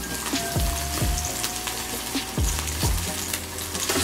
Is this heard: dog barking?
no